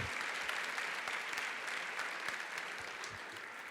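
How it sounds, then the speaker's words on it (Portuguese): A church congregation applauds during a sermon, a dense, even wash of many hands clapping at once, steady and moderately loud throughout with no break. "Dá uma salva de palmas aí para Jesus."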